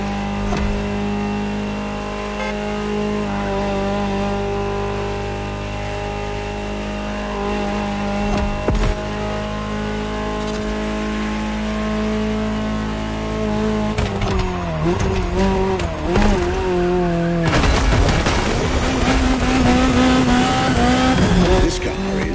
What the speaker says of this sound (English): just enjoy the collector's piece that is the Gran Turismo Omologato